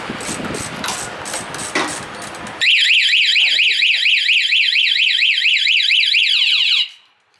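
Speech and background noise give way to a loud, piercing electronic car anti-theft alarm siren, its pitch sweeping rapidly up and down in a steady warble for several seconds before cutting off.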